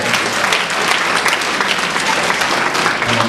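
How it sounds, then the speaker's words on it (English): Loud audience applause at a book event with author Iyanla Vanzant, a dense, even wash of clapping that fills the whole short stretch without talk. "Y'all can clap loud enough on that."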